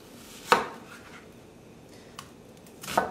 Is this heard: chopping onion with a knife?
yes